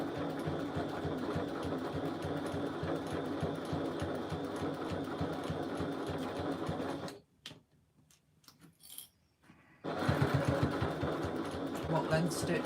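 A sewing machine stitches across fabric with a steady, whirring mechanical rhythm, pausing briefly before running again, while a person talks over it.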